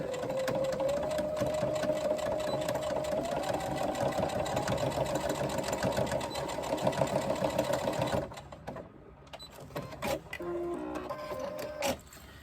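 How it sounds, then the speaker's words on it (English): A sewing machine stitches a bag strap connector tab back and forth, a fast steady whirring motor run that stops after about eight seconds, followed by a few short bursts and clicks. "stitch that back and forward"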